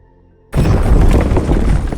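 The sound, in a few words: explosion of a nuclear reactor throwing off its lid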